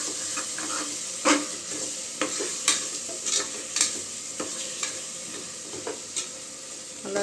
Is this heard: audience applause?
no